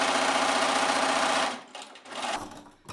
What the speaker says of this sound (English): you're just going to top stitch right along the edge to close that seam